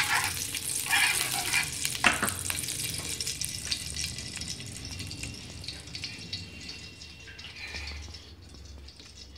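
Desi ghee heats in a hot pan over a low flame, giving a soft steady sizzle with a few brief clatters early on, fading slightly toward the end, without speech.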